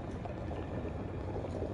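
Steady bubbling of boiling water in the video game Burly Men at Sea, a continuous low churning texture that holds at an even level throughout.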